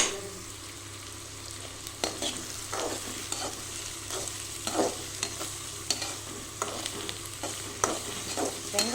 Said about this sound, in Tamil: வெங்காயம் நல்லா கோல்டன் ப்ரௌன் ஆகிற வரைக்கும் நல்லா வதக்கி கொடுத்துக்கிறேன்